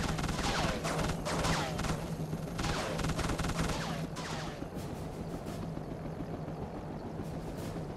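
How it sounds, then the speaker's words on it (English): Dense bursts of rapid gunfire in a Wolverine video game as rounds hit a voltage box, loud and crackling at first, then thinning into scattered shots under game noise. "I just put rounds into that voltage box"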